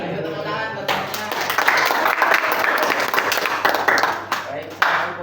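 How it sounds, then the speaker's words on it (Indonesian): Classmates in a microteaching class applaud together, a dense burst of clapping that follows a short spoken phrase and runs loud and steady for several seconds before tapering. "Ayo tepuk tangan buat teman-teman"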